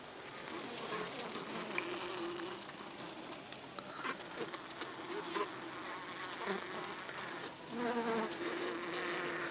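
Bees buzzing around comb honey frames set out near the hive, a steady close hum of many wings with individual bees passing by the microphone.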